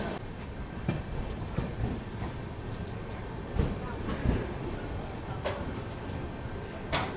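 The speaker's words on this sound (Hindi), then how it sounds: "इस ट्रेन को प्लेटफॉर्म से वापस पीछे शंट किया गया।" A Kaifiyat Express passenger train is shunted backward out of a platform at Ayodhya Cantt station, a steady rolling rumble with occasional wheel clanks and knocks, with faint talk in the background.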